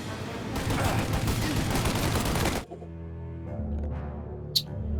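Dense automatic gunfire from Mafia: Definitive Edition rattles loud and continuous for a couple of seconds, then cuts off to a low ambient hum with one faint sharp report.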